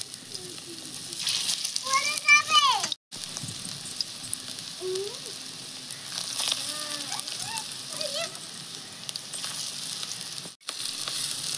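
Bitter gourd (karela) fritters sizzle steadily in hot oil, a constant frying hiss running throughout with brief gaps, while a voice talks over it.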